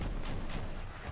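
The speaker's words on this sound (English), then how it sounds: "you get less spread of the two projectiles firing next to each other" Waltz rocket launcher in Crossout firing a volley, several quick thumping launches in a row, fairly faint and with no talk over them.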